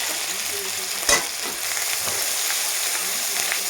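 Spices sizzle steadily in an oil pan after ground turmeric goes in, a continuous crackling fry broken by one sharp clack of a spoon near the middle, with no talking over it.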